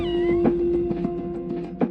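Cats meow in a cat cafe, a few short, distinct mews spaced apart over a steady background hum, fairly close and clear.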